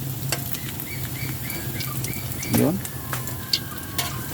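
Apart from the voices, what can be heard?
banana blossom fritters (okoy) frying in oil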